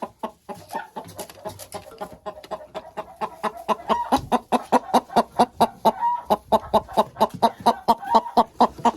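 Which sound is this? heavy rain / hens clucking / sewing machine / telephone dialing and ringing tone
hens clucking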